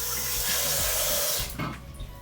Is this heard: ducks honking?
no